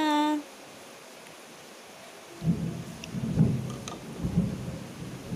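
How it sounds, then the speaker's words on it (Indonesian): Heavy rain pours down outside, with low rumbling thunder, rising suddenly after a quiet couple of seconds and continuing as a steady wash of noise. "di luar hujannya deras sekali ya teman-teman"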